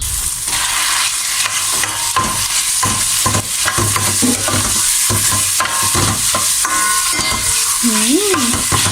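Pad krapao, chili and basil, stir-fried for dinner in a home kitchen: loud steady sizzling with repeated scraping strokes of a spatula against the pan, carrying on continuously without pause.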